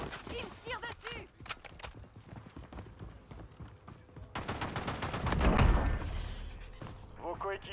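Gunfire in a battle royale video game comes as scattered shots and short bursts amid footstep-like clatter and a heavier thud. Game voices and a player talk over it throughout.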